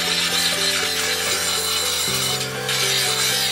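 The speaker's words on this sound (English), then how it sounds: "Time for some serious grinding action." Grinder working the edges and spine of a forged meat cleaver, a continuous harsh abrasive rasp with steady humming tones that shift pitch partway through, loud and close with no talk.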